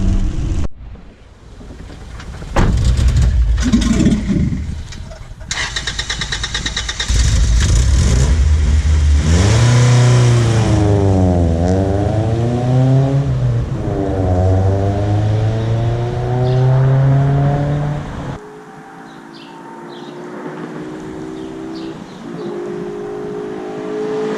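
A Honda GSR engine fitted with a Skunk2 intake revs up and down while driving, its pitch rising and falling through repeated swells before settling lower, loud and close, with rain-like hiss and wind noise around it.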